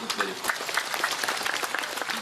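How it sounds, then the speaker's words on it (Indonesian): Audience applause at a large Islamic tabligh akbar gathering, a steady dense patter of many hands clapping close by that holds for a couple of seconds, with a voice faintly audible beneath it. "Tepuk tangan untuk Pak."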